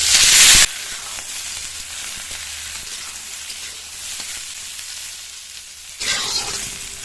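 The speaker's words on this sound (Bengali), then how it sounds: "আলুটা খানিকক্ষণ ভেজে নেব।" Potatoes fry in oil in a pan in a rustic village kitchen, a continuous close sizzle with louder spitting bursts at the start and again near the end.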